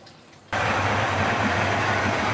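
Yamaha 90 outboard motor starting for the first time after a full overhaul, a sudden loud burst into a rough steady running roar after a brief quiet moment.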